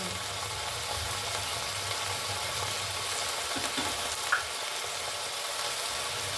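Steady sizzle of ingredients sautéing in a pan for chitranna, a dense continuous frying hiss at moderate level with a few faint stirring clicks, no voices.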